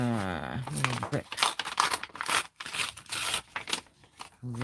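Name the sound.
tearing coffee dyed paper by hand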